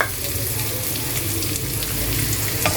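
Garlic and onion frying in oil over medium heat for pork adobo, a steady close sizzle that runs continuously without a break.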